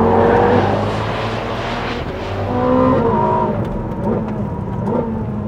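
Ferrari SF90 XX hybrid supercar accelerating hard out of a corner on a racetrack, its engine note rising in steady, loud pitch sweeps that hold close through the whole stretch, with no talking.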